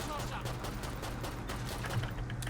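Medic machine gun firing in Killing Floor 2, a continuous rapid stream of automatic shots over loud game action, with someone talking over the gunfire.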